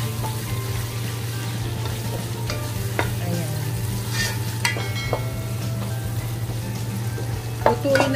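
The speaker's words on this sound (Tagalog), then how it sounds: "Halo-haloin lang natin ng mga 3 to 5 minutes para magkusta talaga siya." Minced chicken stirred and frying in a pan on a home stove, with a steady close sizzle, scattered scraping and clinking of the utensil against the pan, and a constant low hum underneath, no talking.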